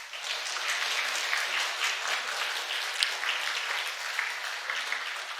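A church congregation applauds during a Sunday service, a dense, even burst of many hands clapping that holds steady and slightly distant throughout, with no talking over it.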